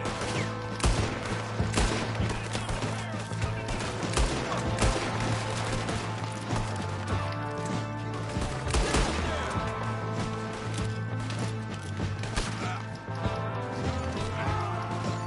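Repeated gunfire from a sniper in the video game Red Dead Redemption 2, dense and loud throughout, with sharp shots and clanking game effects over steady low music or ambience.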